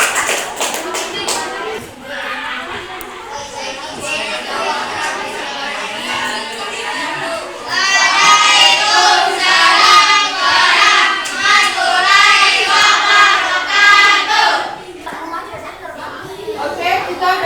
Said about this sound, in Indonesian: Oke, beri tepuk tangan untuk kelompok Papua.